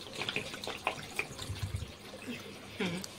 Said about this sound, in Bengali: আবার আমি এবার এই জল দিয়ে দেবো